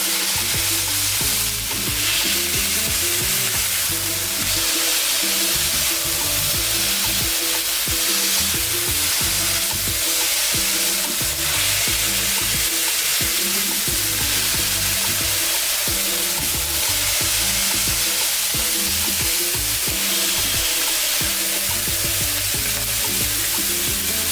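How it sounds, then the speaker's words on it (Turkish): Homemade hamburger patties sizzle and crackle steadily in a hot frying pan, a dense continuous hiss with no talking. "Hadi gelin biz de köftelerimizi bir güzel kızartalım. İşte bu sesi duymak önemli gerçekten."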